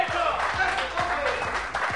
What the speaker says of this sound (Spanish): hoy, al que hay que aprovechar a la gente que tenemos acá para darle el fuerte aplauso, es para Próspero Bonelli